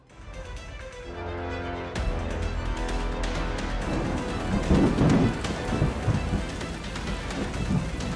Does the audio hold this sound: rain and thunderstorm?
yes